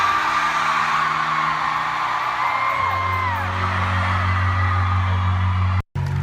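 A concert crowd yells and cheers in a large venue, forming a sustained roar with high whoops and a lower droning hum, loud and continuous before a brief cut near the end.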